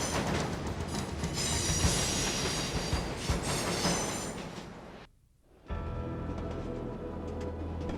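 A steam express train, the Wellington to Auckland Express, rumbles steadily along the rails near the Whangaehu River with metallic squeals and rattling, loud and continuous, briefly dropping out before the running noise resumes.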